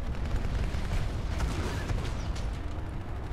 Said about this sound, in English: look at all the gunfire!